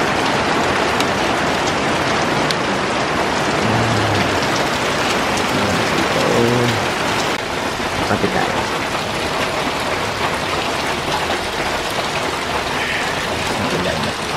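Heavy, non-stop rain pours down on a garden with a greenhouse nearby, a dense steady hiss of drops on surfaces that fills the whole stretch; a voice speaks briefly under the downpour.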